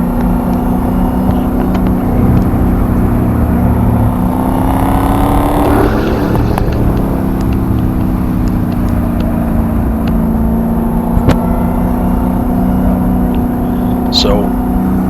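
A Dodge Hellcat and a Corvette accelerating hard on a race track, heard from inside the car as a loud, steady engine roar whose pitch climbs and then shifts around the midpoint. Nobody talks over it.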